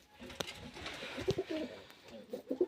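Soft pigeon cooing in short low bursts from a male pigeon near its mate at the nest, repeated a few times close by, with faint rustling and background noise between calls.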